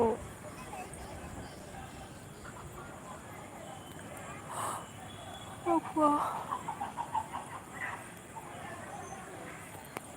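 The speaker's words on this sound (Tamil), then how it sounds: "என்ன கோழி எதோ கத்துது" Faint clucks and a short call from a caged turkey rise briefly over a steady outdoor background hum, with a few scattered voices.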